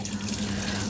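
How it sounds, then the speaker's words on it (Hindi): Cold water runs steadily from an opened outdoor tap where two people are bathing, a continuous broadband rush with a faint low hum beneath it, no speech. "आज ये वाला नल खोल लिया इन्होंने"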